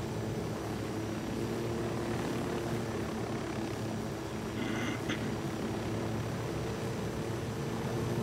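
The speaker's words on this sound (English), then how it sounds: "All we had to do is go for the helicopter and take off and go up and above." A helicopter takes off in Ghost Recon Wildlands, its engine and rotor drone steady and loud throughout, with a brief higher mechanical whine partway through.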